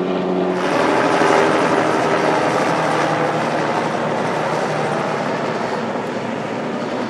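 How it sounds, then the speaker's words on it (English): A helicopter passes overhead, its loud, steady rotor roar and thump filling the scene and fading slightly toward the end. "Here comes a chopper."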